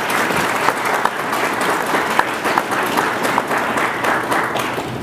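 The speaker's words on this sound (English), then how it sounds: "Please join me in a round of applause for our graduating class." Sustained applause from a large crowd at a military leadership course graduation ceremony, dense steady clapping with scattered louder claps throughout, no talk over it.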